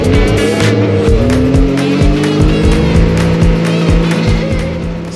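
A Red Bull RB7 Formula 1 car roars by very close and loud. The engine screams and its pitch climbs through a rapid series of gear shifts, then fades slightly at the end, with no voices.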